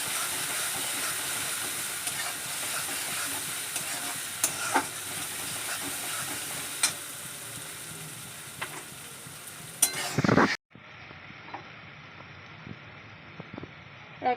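Young jackfruit and chana dal sauté with garlic-ginger paste in a steady, hissing sizzle, with sporadic spatula scrapes and taps; a sharp clatter leads into a quieter, duller stretch of frying.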